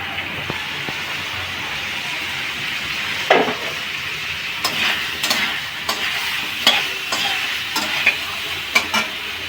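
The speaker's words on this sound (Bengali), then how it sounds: "পাঁপড়গুলো এরকম করে ভেজে রাখবেন।" Papads frying in hot oil give a steady, close crackling sizzle, broken by a few sharper clinks and scrapes as they are turned. No voices.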